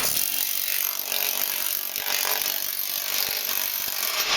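A planishing machine gathers and shrinks sheet metal, giving a steady, loud, dense mechanical chatter that runs without a break.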